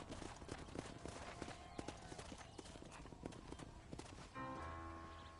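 Horse hooves clip-clopping in the video game Red Dead Redemption: a brisk, rhythmic run of close hoofbeats that slows near the end, with a short tonal sound at the close.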